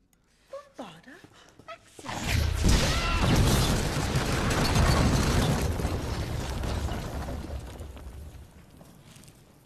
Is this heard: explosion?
yes